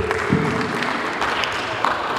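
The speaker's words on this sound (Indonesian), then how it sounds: "Tepuk tangan untuk Pak Agung." A crowd claps steadily for a couple of seconds, a dense patter of hands filling a room.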